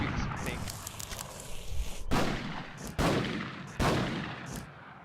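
Repeated gunshots from the player's own weapon in an online shooter game, a run of sharp cracks with a few louder blasts standing out, all under a steady layer of game noise.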